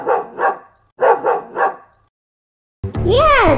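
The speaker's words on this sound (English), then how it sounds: "Yes, you are right. It's a dog." A dog barks close by in two quick bursts of short, sharp barks, first two and then three, followed by a pause and a separate, higher, whining tonal sound.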